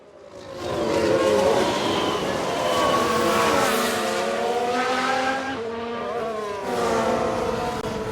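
A Ferrari race car engine in F1 Manager 22 during a race, a loud, sustained high-pitched whine rising and falling as it shifts through gears, with no talk over it.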